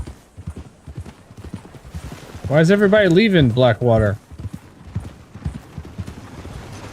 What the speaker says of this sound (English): It's an awful nice white horse you got there.